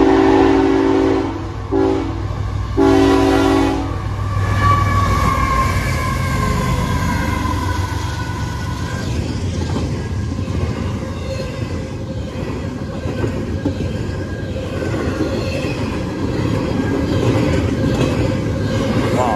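A train horn blares loudly at the start, then a heavy train rumbles past close by at Sturgeon Point Road in Derby, New York, its roar and rattling wheels filling the rest.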